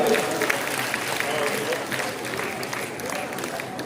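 A crowd at a gathering applauds to welcome Bhagat Singh Kulaste, a dense, continuous patter of clapping filling the short stretch at moderate loudness.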